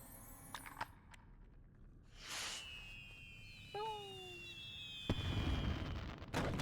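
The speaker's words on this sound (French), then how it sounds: "Faut lancer des feux d'artifice pour accéder aux escaliers." Fireworks launched in the video game Lego Harry Potter Years 5-7: scattered pops and clicks, a whooshing launch, whistling rising tones and a final bursting crackle, moderately loud in a quiet game scene.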